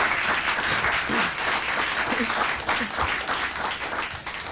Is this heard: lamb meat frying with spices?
no